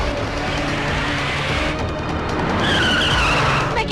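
A car skids with tires squealing, a loud, sustained screech over a heavy engine roar that lasts the whole moment and rises into sharper, higher tones near the end.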